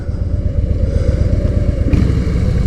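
A Harley-Davidson Sportster motorcycle engine rumbles loudly and steadily at idle, deep and throaty, filling the whole stretch without pause.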